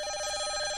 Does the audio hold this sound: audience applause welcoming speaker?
no